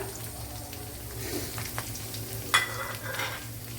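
Crushed garlic, ginger and masala sizzle in a pan, a steady close frying hiss with occasional stirring scrapes and one sharp clink of a utensil.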